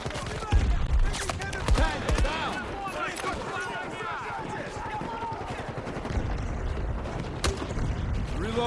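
Battlefield 2042 Portal milsim combat: a dense stream of rapid gunfire and heavier booming blasts from a grenade explosion runs throughout, loud and close, with a voice speaking amid the shooting.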